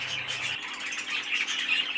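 Pet birds kept in a shed chirp and twitter continuously, with overlapping bright, close calls.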